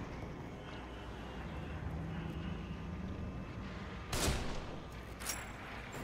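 Faint background ambience, then a sharp, loud video game gunshot crack from The Evil Within, followed about a second later by a second quieter shot.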